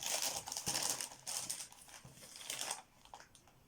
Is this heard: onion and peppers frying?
no